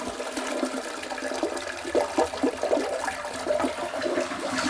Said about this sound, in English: have you ever just looked for yourself and figured out which way your toilet swirls?